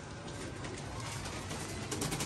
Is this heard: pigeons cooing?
yes